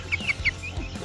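A chicken with feathered feet gives several short, close clucks in quick succession over a low background hum.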